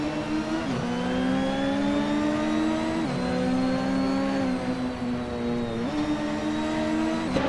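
Lola Aston Martin B0960 race car engine in a racing video game, a loud sustained howl that climbs steadily in pitch, drops sharply at each upshift about every three seconds, then climbs again, with no talking.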